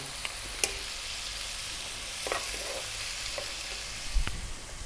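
Fresh chilies hit a hot pan for a vegan spinach chickpea curry, giving a loud, continuous sizzle broken by a few sharp pops and stirring scrapes, with no talking.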